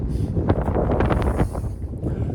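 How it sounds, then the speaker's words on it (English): Strong wind blows outdoors at an open field site, buffeting the microphone in a loud, continuous rumbling roar with gusty surges and no voices. "It's so windy out here"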